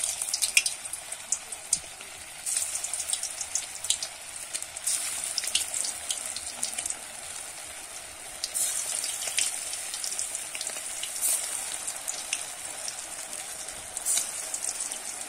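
Pea koftas frying in well-heated oil in a pan, giving a steady bright crackling sizzle with scattered pops that runs unbroken throughout, close and moderately loud, with no talking.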